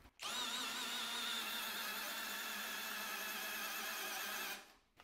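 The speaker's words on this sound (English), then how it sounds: "But a pretty good showing, I think, from this little tiny drill." A tiny Skil 1/2 inch impact driver whirs at high pitch for about four seconds, a steady whining spin that starts abruptly and cuts off cleanly.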